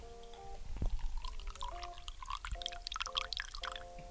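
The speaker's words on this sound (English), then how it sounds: "Pour my coffee, please." Coffee pours from a coffee pot into a cup in a home kitchen: a soft, continuous trickle and splash of liquid, fairly quiet and close, with steady tonal hum in the background.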